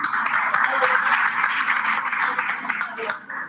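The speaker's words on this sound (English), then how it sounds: "give him a good clap" An audience at a faculty development lecture applauds a student, a dense, even wash of many hands clapping at moderate loudness that tapers off near the end.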